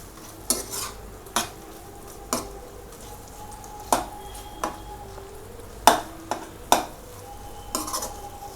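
Orange chicken with added orange peel is stirred in a pan, giving sharp intermittent scrapes and clinks of a utensil against the pan at irregular intervals over a low, steady sizzle.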